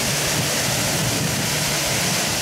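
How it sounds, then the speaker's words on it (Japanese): A constant roaring rush of an artificial waterfall in a Chinese garden, thick and unbroken, with no other sounds. "滝を見ることができるんですね。 本当に本物の滝みたい。"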